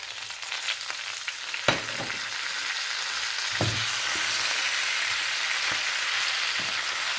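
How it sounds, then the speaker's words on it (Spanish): Spinach sautéing with onion, garlic, ají amarillo and pepper in a hot pan: a steady, fairly loud sizzle broken by a few sharp spoon knocks and stirring scrapes, with no voices. "y también tratamos de ir mezclándolo con la cebolla, el ajo, el ají amarillo y la pimienta"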